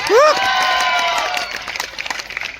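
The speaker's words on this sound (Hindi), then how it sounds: "तालियां बजा सकते हो" An audience claps and cheers at a skill development platform event, a loud, dense burst of applause with whoops, fading into scattered claps.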